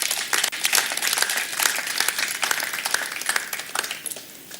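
A crowd applauds with dense, continuous clapping that holds steady for several seconds before starting to thin out.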